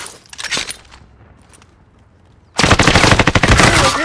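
Machine gun fire in Call of Duty: Modern Warfare at an airport: a brief burst and scattered shots early, then a loud, sustained rapid volley of close automatic fire filling the final second and a half.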